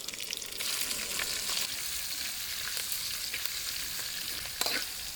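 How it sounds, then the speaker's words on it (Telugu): Cashews and slit green chilies sizzle steadily in hot oil in a pan for a curry-leaf chicken fry, a close, continuous frying hiss with a few brief stirring scrapes. "జీడిపప్పులు అయితే కనుక ఫ్రై అయిపోయి పచ్చిమిరపకాయ చీలికలు యాడ్ చేస్తాను."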